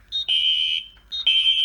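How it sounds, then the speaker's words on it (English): A fire alarm panel in general alarm, with fire suppression active, sounds a loud electronic tone that repeats in two long pulses with a short gap between them. No one speaks. "So the panel's in both general alarm and supervisory."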